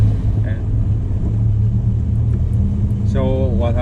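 A car engine, just started with a push button and with a cooling fan switched on, runs with a steady low rumble throughout; a voice speaks briefly near the end.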